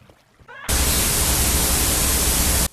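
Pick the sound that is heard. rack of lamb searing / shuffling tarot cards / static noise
static noise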